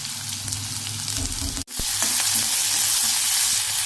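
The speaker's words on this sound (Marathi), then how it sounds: "कांदा चांगला लालसर रंगावर परतून घ्यायचा" Onion sautéing in a pan for bread pakoda filling, a loud close sizzle with stirring scrapes, a brief cut to silence midway, then frying resumes strongly.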